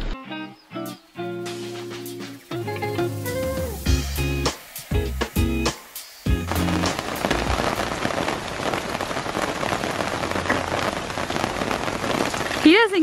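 Steady rain patters and hisses across a surface for several seconds after a stretch of music, forming a dense, continuous wash.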